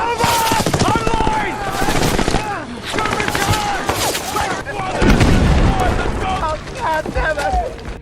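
Gunfire erupts from a Japanese bunker in war footage, with repeated loud shots and bursts of fire packed together over several seconds while a narrator talks over them.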